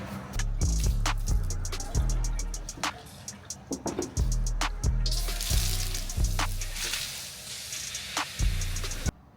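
Water sloshed and poured through Ford 6.7 diesel intercooler pipes being rinsed out, with repeated close knocks and clunks of the piping and splashing, spraying water.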